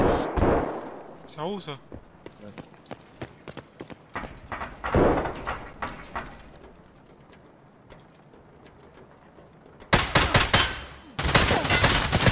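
Sharp gunshots crack in Escape from Tarkov, scattered single shots through the middle, then dense loud bursts near the end, with players talking briefly early on.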